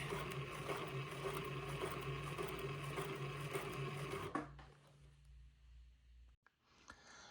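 A sewing machine runs steadily as it stitches a seam around the armhole opening of a garment, a close, continuous mechanical hum for about four seconds before stopping, followed by faint handling noises.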